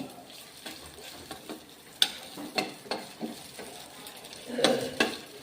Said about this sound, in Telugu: ఇప్పుడు నేను ఫ్రై చేసుకోవాలి, నేతిలో ఫ్రై చేసుకోవాలి.